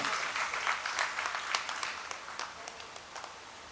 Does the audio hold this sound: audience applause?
yes